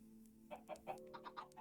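A Minecraft chicken lets out a quick run of about six short, soft clucks in an uneven rhythm, quiet and alone.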